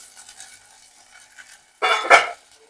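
Shallots and green chilies stirred into hot coconut oil after mustard seeds have popped, a close burst of sizzling and spoon scraping in a pan that rises sharply near the end following a quiet lead-in.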